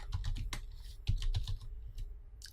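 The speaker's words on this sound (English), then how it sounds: "Just type in your name" Rapid keystrokes clatter on a computer keyboard as a name is typed, a steady run of close, crisp clicks with a heavier thump near the middle and no voices.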